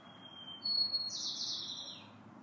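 A bird sings in the background, a single bright chirp and trill over a steady low ambient hum, moderately distant and fairly faint.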